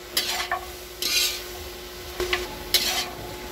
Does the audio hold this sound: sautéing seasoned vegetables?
yes